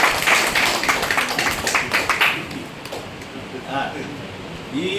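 Audience clapping to congratulate a couple on their 50th wedding anniversary, a dense crackle of hands for the first couple of seconds that thins out and fades, with voices murmuring beneath.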